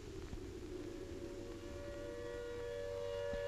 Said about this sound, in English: the air raid siren wails again